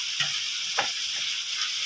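Finely cut vegetables, including thin carrot strips, fry in a pan with a soft, even sizzling hiss and a couple of light utensil taps across a brief stretch.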